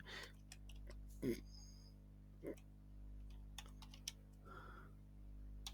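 Light clicks of typing on a computer keyboard, scattered keystrokes near and quiet, under someone speaking.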